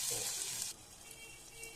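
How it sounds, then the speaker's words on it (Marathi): Dal water poured into a hot garlic and chili tempering for simple Marathi varan gives a soft, faint hiss that drops away partway through, leaving a quieter bubbling wash. "आता आपण डाळीचे पाणी टाकूया."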